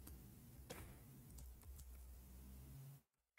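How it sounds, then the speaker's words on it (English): Typing on a computer keyboard in Arabic: a quick run of close, faint key clicks and taps over a low background hum, cutting off to near silence at the end. "I'm typing in Arabic."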